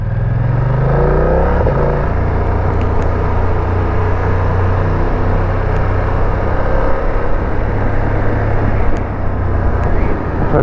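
A motorcycle, either a BMW F900R or a Yamaha 600XT, rides in gear along a road in the Hauts de France: a steady, loud engine drone with wind rush, an early rise in revs, then constant cruising throughout.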